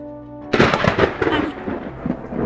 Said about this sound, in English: Did he just get zapped by lightning?